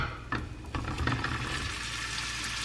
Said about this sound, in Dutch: Ik ga eerst de gehaktballen bakken.